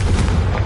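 Confringo blasting curse from the Hogwarts Legacy game, a short heavy booming burst with low rumble, loud and close, no voices.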